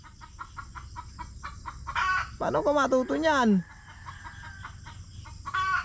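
Chickens cluck in a quick, steady rhythm nearby, broken midway by a loud burst of squawking calls, while someone speaks briefly over them.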